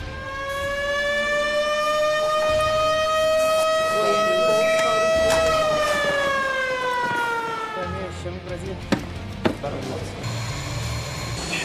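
Air defense alert siren at Anápolis wailing loud and steady, its tone holding then slowly falling away, with radio voices and clicks breaking in near the end.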